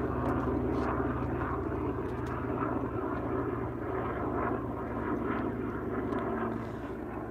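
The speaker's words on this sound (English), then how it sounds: "Unfortunately, we have helicopter noises." Steady engine drone of a helicopter passing overhead a bay, a continuous low rumble that holds fairly constant throughout with no talking.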